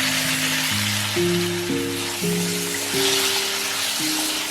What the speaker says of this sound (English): Reduce the heat slightly and add the marinated pork ribs.